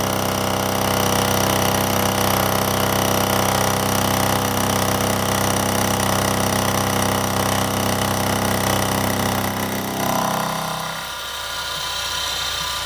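A lathe taking a final finishing cut of about forty thousandths off a steel tool post holder, producing a loud continuous tonal machining whine that stops near the end, leaving a quieter motor hum.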